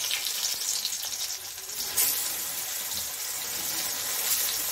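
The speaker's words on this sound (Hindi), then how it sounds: "इसको भी फ्राई कर लेंगे" Stuffed bitter gourd (karela kalonji) fries in a pan with a steady, close, hissing sizzle that runs unbroken for the whole stretch and has no voices over it.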